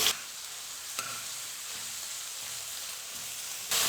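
Sliced onion and green chili drop into hot oil in a pan for a Tamil fish curry, giving a steady close sizzle that flares at the start and again at the end.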